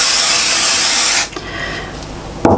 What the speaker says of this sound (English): So now I'm going to just spray this little bit here.